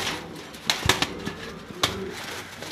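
Pigeons of a snake-eyed pair, male and female, give soft low coos among scattered sharp clicks and brief rustles of movement, close by and with no voices.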